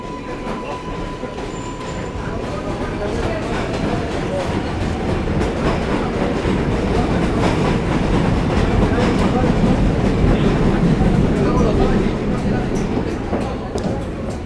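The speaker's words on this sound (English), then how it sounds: "This is the Junction Boulevard stop on the number 7 train." A number 7 subway train at the Junction Boulevard stop in Queens rumbles steadily, a loud broadband roar with faint clatter throughout, on a cold January afternoon.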